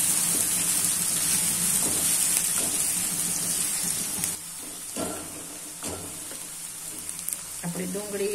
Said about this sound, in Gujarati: આપણે 1 થી 2 મિનિટ માટે સાકળવા દેશું.